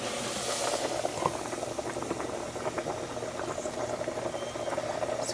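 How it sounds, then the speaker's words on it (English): Chicken sandwich fillets fry in hot oil with a steady, dense crackling sizzle that stays loud and continuous throughout, with no voices. "And I'm going to start frying these."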